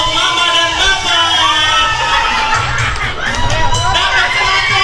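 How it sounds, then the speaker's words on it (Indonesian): Guests at a wedding reception cheer and shout in a loud, continuous crowd roar with excited voices overlapping, close and energetic throughout. "Tepuk tangan untuk mama dan bapak."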